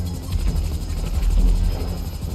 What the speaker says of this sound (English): Only if I had a minigun on this helicopter.